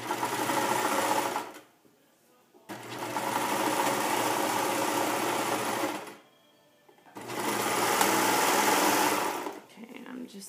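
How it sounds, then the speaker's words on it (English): A serger overlocks a knit neckband in three sustained, loud whirring runs separated by short pauses, the motor steady and close throughout. "I'm just serging off because I'm going to top stitch it down"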